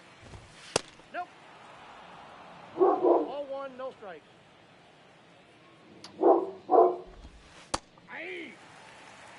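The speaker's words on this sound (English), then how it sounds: "Dog's pretty excited for Mason Miller pitching well." A dog barks in short bursts, a couple of quick yips followed by clusters of louder barks, nearby in the room while a baseball video game's commentary plays.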